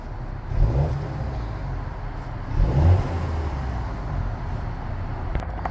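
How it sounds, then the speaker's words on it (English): A 2025 MINI John Cooper Works Hardtop idles with a deep, throaty exhaust rumble that swells twice in short revs before settling back to a steady drone. "Here's the exhaust. That sounds pretty good for this small car."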